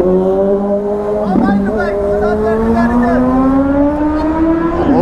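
A superbike passes on a hill road near Nahargarh Fort, its engine note climbing steadily in a loud, close, sustained whine as it goes by, with riders talking over it.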